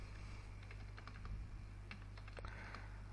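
Someone enters Excel rate and quantity values on a computer keyboard, producing scattered soft, close keystrokes in small clusters over a steady low background hum.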